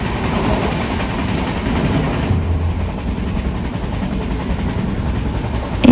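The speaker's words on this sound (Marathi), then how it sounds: "कोणती तरी ट्रेन क्रॉसिंग होते" Another train passes on the crossing track beside a moving Janshatabdi Express at night, a loud, steady rumble and rush heard from inside the coach.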